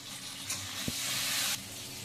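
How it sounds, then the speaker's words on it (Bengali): Drumstick (sajne data) pieces frying in a pan give a steady close sizzle and hiss that swells for about a second with a brief soft knock in the middle. "এখন আমি ভেজে নেবো।"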